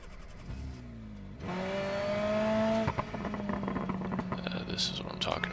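A Sherrier Ardente four-cylinder coupe with nitrous in BeamNG revs hard through the gears, pitch climbing, dropping at a shift, then climbing again, with tire scrapes and clatter toward the end, loud and close.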